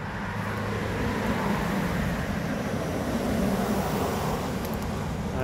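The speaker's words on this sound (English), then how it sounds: "you can hear the cars going past" Cars passing on a nearby road beside an old dumping ground, heard as a steady, continuous rumble and hiss of traffic at moderate distance with no single vehicle standing out.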